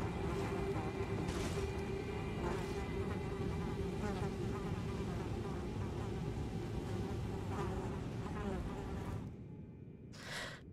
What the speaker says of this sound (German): Mit diesem Fliegengeschwirre, was man die ganze Zeit so gehört hat.